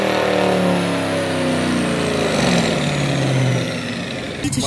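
Dodge Challenger 392 V8 engine revving on a dyno, loud and close, rising and falling through the gears before cutting off abruptly, with faint voices in the background.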